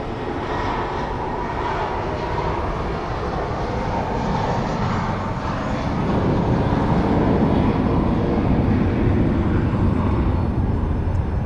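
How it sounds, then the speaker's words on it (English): An 18-year-old JetBlue Airbus A320 jet departs Phoenix Sky Harbor International Airport bound for JFK, a steady broad jet roar heard from a distance that swells louder toward the end, with no talk. "Here we go with our last flight of the day. It is JetBlue A320."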